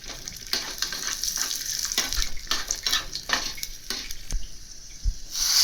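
Raisins and cashews fry in ghee for a moong dal payasam, a steady close sizzle with repeated scraping stirs and light clinks of a spoon against the pan.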